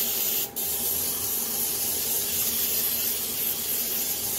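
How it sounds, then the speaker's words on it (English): Canola oil cooking spray hisses steadily and fairly loud from an aerosol can as a baking pan is coated, one continuous spray with a brief break near the start and no talking. "I got my canola spray here."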